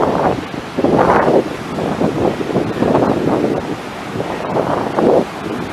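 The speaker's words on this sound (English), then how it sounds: "you can just kind of hear the roar of the sea" Ocean surf roars against a shore in Iceland, a steady, loud rushing wash that swells and recedes in broad surges, with gusting wind buffeting close by throughout.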